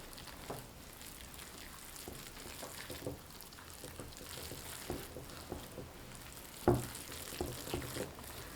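Minced meat mixed with egg and potato starch is stirred into a sticky paste, producing faint, soft wet squelches and taps in an irregular rhythm, close and quiet, with no voices.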